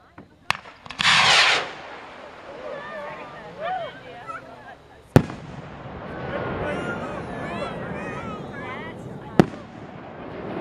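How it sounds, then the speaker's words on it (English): Rocket launches at OzFest 2023, an outdoor amateur rocketry event, with a sharp burst of launch noise followed by separate loud cracks, set against steady crowd murmur and talk. "And another rocket."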